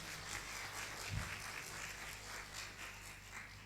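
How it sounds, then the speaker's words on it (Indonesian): Soft applause from a church congregation, a steady patter of clapping heard faintly at a distance with no voices over it. "Beri tepuk tangan buat mereka."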